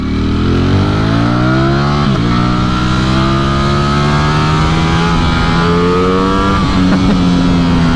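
A 2021 Ducati Streetfighter V4S naked motorcycle revving and accelerating hard, its engine note climbing steadily through the gears with brief dips at each shift; loud, close and sustained, with no talk.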